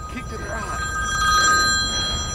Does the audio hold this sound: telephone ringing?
yes